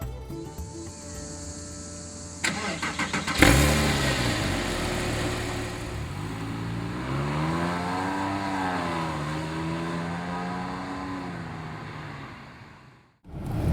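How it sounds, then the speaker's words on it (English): A 2008 Porsche 911 Carrera 4S engine idles, then bursts to full throttle and climbs through rising revs before easing off. It is loud and close, with no talking. "here is full throttle on a Porsche 911 C4S"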